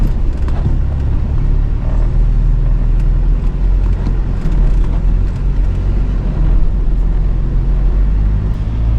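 A 4WD vehicle rolls along an inland sand track on Moreton Island, a continuous loud low rumble of engine and tyres with no talk.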